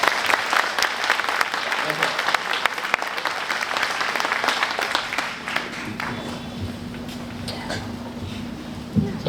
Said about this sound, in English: Y'all please give her a round of applause.